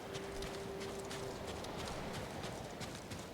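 Horse hooves clip-clop in the video game Ghost of Tsushima, a quick irregular patter of hoofbeats over steady rain-like background noise, fairly faint, with no talking.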